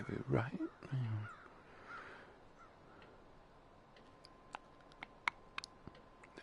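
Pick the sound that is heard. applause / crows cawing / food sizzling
crows cawing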